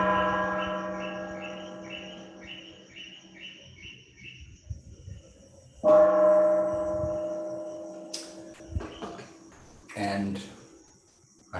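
A gong closes an online meditation session with two resonant strikes, the first at the start and the second midway, each ringing out and slowly decaying, followed by scattered clicks and knocks.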